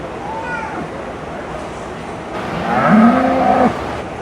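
A cow moos twice, nearby. A shorter call comes first, then a longer, louder low moo follows, over a background of soft voices and outdoor noise.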